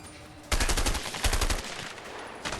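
Gunfire in the prison-escape video game A Way Out: two quick bursts of rapid shots in close succession, loud and sharp, followed by a fading tail with no talk.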